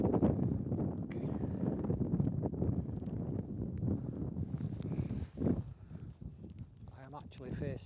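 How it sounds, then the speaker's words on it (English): Wind buffets the microphone outdoors on a hillside near Rona and Raasay as a steady low rumble with gusty surges. Someone talks throughout over the noise. "I am actually facing into the wind now."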